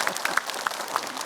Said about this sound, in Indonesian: Tepuk tangan dulu deh Ibu